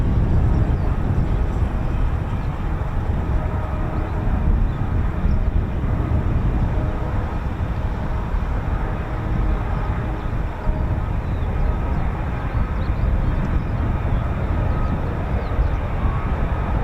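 F-35B jet with its F135 engine, flown by 809 Naval Air Squadron and RAF squadrons, producing a loud, steady, rumbling roar that fills the whole stretch without letting up.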